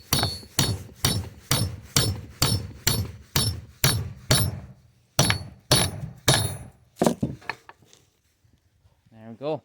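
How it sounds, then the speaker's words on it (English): Repeated hammer blows drive square-neck bolts for D-ring hooks into a wooden flatbed, about a dozen sharp, evenly paced strikes close by, then a pause, a few more hits and quieter knocks. "now we'll pound in this one"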